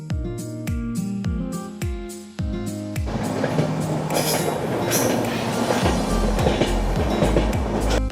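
The Kanchankanya Express rolls along the rails with a loud, rhythmic clickety-clack of wheels over joints, at first spaced beats and then a denser rumble with steady repeated clacks.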